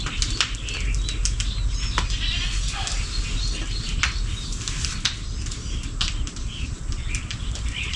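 Goat bleats rise now and then from a noisy farmyard, with a steady broadband rush of wind and rustling underneath and brief flapping or scuffling sounds close by.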